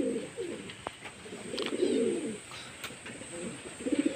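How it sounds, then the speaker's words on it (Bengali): Pigeons feeding outdoors on a rainy-season day give repeated low, throaty coos in short rolling phrases, fairly close and steady over soft background noise, with no talking. "বাইরেও কিছু পায়রা খাচ্ছে।"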